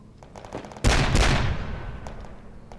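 Mortar fire in the military simulation game Project Reality: one heavy, booming launch blast rings out and decays slowly, with a few lighter distant thuds around it.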